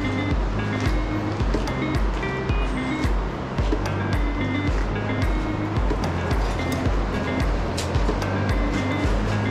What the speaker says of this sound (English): Oh, our river.